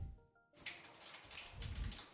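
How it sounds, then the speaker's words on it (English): Rain falls in a steady, soft patter on surfaces nearby, with a few heavier drops and low rumbles, following a brief quiet tonal hum at the start. "Gotta love the rain."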